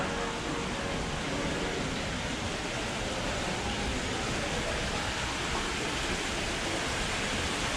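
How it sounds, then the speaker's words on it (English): A small creek at Disney's Fort Wilderness Lodge runs as a steady, even rush of water with no breaks, close and fairly loud, and no one speaks. "This neat little creek."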